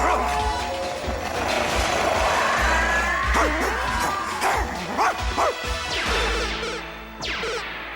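Rush, a cartoon robot dog, barks and yips repeatedly in quick bursts, loud and close, over a steady background hum with a brief whine at the end.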